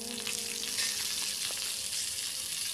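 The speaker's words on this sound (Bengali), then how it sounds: "দিয়ে গরম তেলের মধ্যে দিয়ে দিলাম।" Whole spices sizzling in hot oil for a tempering, a dense, even crackling fry that holds steady and close throughout.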